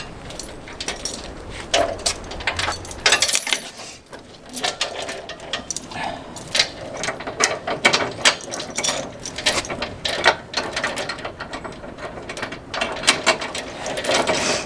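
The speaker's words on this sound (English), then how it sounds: "Double check the pin, and tighten up the sway control" Sway control on an RV trailer hitch being tightened by hand, with repeated metallic ratcheting clicks, rattles and clanks up close, in irregular bursts across the stretch.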